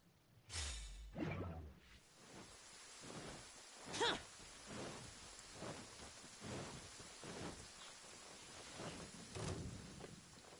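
Rain falls in an anime scene, a steady hiss broken by repeated whooshing swells and faint low rumbles like distant thunder.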